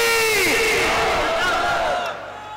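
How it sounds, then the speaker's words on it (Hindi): A large crowd at an outdoor religious gathering roars "Allahu Akbar" in unison in response to a takbir call, loud and sustained for about two seconds before fading slightly. "पहले मैं नारे तकबीर बोलूंगा, आप अल्लाह अकबर कहेंगे।"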